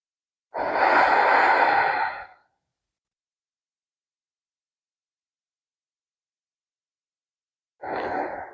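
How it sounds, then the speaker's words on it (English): A long, deep, audible exhale lasting over a second, then silence, then the start of another breath, taken during a yoga forward fold in a tree-pose session; close and clear with no talk. "Taking a few full breaths in and out."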